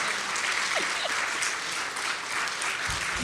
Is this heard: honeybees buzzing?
no